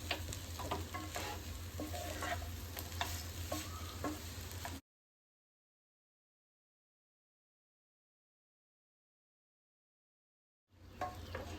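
Poha upma being stirred in a pan, a scraping, lightly sizzling mix of spoon-on-metal strokes, close and steady, that cuts out midway into silence and then resumes briefly at the end.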